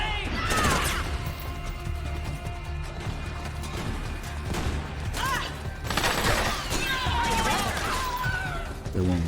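Gunfire in Metal Gear Solid 4, sharp shots scattered through the stretch over a dense game mix of music, effects and other noise, with bursts clustering near the start and around the middle.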